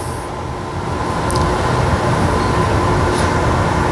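A train departs Fremantle station towards Claremont, heard from on board as a loud, steady rumble of rolling wheels and motor that builds slightly as it picks up speed, with faint high squeals.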